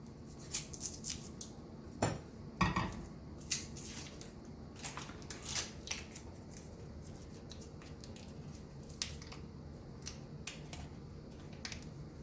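Salted butter being cut into tablespoon portions in a kitchen, giving a series of soft, close knife clicks and squishy slices spread irregularly through the quiet, with no talking.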